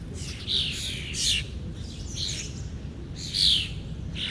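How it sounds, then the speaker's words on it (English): A bird in Central Park gives loud, repeated calls in short bursts, three or four harsh chirping phrases spaced a second or so apart over steady outdoor city background noise. "I hate that bird."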